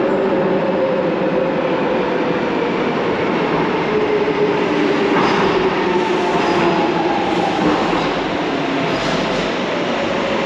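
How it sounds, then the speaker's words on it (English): A train rolls into Cutty Sark station's platform 1 with a continuous loud rumble and faint squealing wheels, growing steady as it comes in alongside the platform. "Lewisham service arriving into platform number 1."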